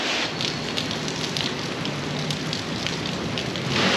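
Heavy rain pours steadily beneath a toll-road bridge, a dense, loud, continuous hiss with no pauses and no voices.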